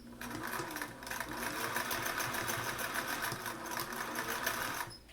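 A sewing machine stitches elastic onto a fabric face mask, running at a steady, close whir for about five seconds with no talking.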